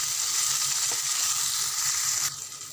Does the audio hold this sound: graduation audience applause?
no